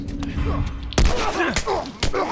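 Gunfire in The Last of Us: three sharp, loud shots ring out, spaced about half a second apart, mixed with a speaking voice and game sounds.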